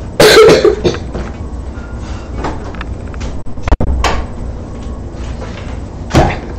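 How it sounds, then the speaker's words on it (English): A door shuts with a dull thud midway through, preceded by a cough and some shuffling nearby; another short noise follows near the end. "Let me close my door really quick."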